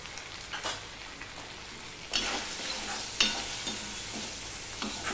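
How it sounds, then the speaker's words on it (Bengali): Tomato being stirred in a sizzling pan with salt and turmeric for a Bengali rui fish curry, a soft steady fry with a few sharper scrapes of the spoon. "টমেটোটা দিয়ে একটু নেড়ে নিলাম"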